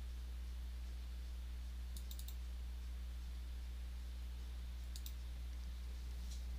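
Sharp mouse clicks come in two quick clusters over a steady low electrical hum while saving a file in Silhouette Studio, close and crisp with no voices.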